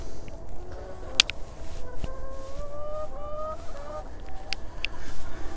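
Poultry on a mobile chicken farm housed in a caravan-style coop: several faint honking, clucking calls come in short bursts over quiet background, with a few sharp knocks.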